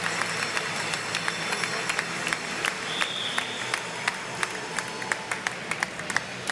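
Crowd at a velodrome during cyclist Jens Voigt's UCI Hour Record attempt, a dense steady wash of applause and cheering with sharper claps standing out near the end.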